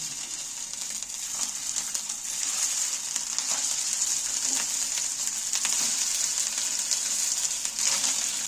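Semolina and potato snacks fry on low heat in a pan with a little oil, a continuous soft, even sizzle with small crackles and a faint scrape now and then, no talking.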